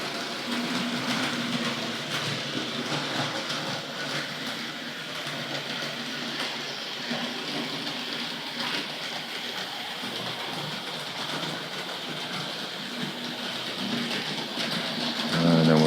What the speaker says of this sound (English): we'll get that Dublo locomotive to run around again